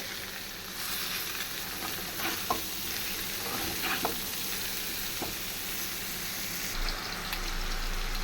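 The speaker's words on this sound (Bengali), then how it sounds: "প্রথমে পেঁয়াজগুলো দিলাম পেঁয়াজগুলো দিয়ে একটু ভাজা ভাজা করে" Onions fry in oil in a pan, giving a steady, close sizzle across the whole stretch with occasional scrapes and stirring clicks.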